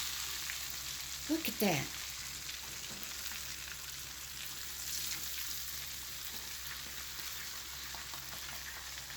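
Chicken fries in a cast iron skillet with a steady, hissing sizzle throughout. A brief voice is heard near the start, and there is a soft scrape of handling.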